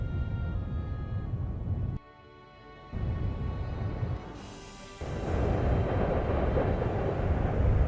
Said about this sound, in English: It does kind of sound like rushing water or a constant explosion.